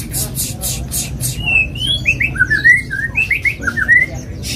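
Magpie robins (murai blorok) singing continuously in a bird market, a run of clear whistled and chattering phrases close by, with harsh squawks at the start and background crowd noise.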